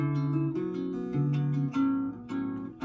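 A guitar plays a repeating pattern of plucked notes from a song in Gb, with the strings muted after the third note so each phrase stops cleanly. The notes are clear and close, with short silent gaps and no voice.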